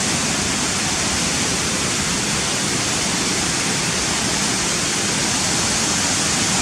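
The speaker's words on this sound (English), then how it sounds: "I'm going to point the camera down through the waterfall." The Cotterforce waterfall gives off a steady, dense roar of rushing water from close by, unbroken for the whole stretch with no voices.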